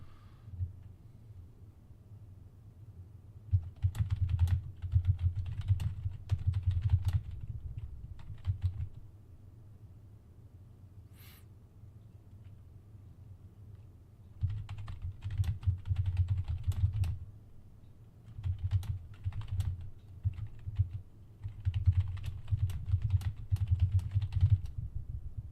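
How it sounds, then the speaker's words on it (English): Typing on a computer keyboard comes in several bursts of quick, close key clicks separated by quiet pauses, with a low background hum throughout. "Okay, so we are just gonna type a message"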